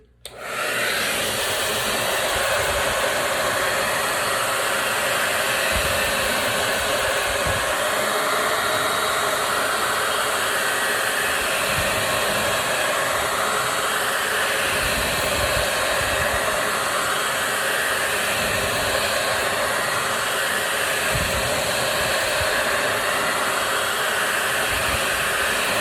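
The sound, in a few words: dryer blowing to quick-dry a craft project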